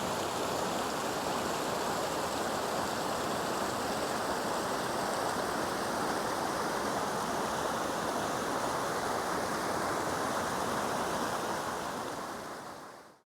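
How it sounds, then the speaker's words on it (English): A waterfall near Peacock Pool in Rocky Mountain National Park pours with a steady, broad roar. The rushing water holds an even, constant level throughout and is heard alone without voices before it trails off at the end. "And this waterfall deserves a name."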